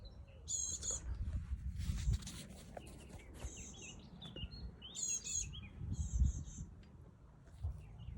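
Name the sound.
bird chirping in a garden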